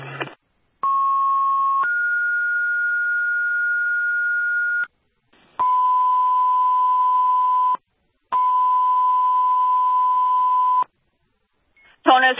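Fire dispatch radio alert tones for a second alarm at a paper mill fire in Putney, Vermont: three long, steady electronic tones with short gaps, loud and clean, with brief radio crackle at the start and end.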